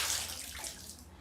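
Clean water runs into a bathtub with a steady close rushing splash that holds evenly throughout, with no voices.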